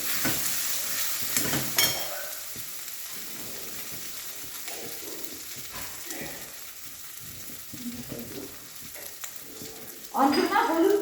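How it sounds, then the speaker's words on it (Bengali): Spiced masala paste sautéing in a pan for dal, a soft steady sizzle with occasional stirring scrapes and a louder burst of frying near the end, with faint background voices. "ভালো করে মশলাটা কষানো হয়ে গেলে আমি ডালটা দিয়ে দেবো।"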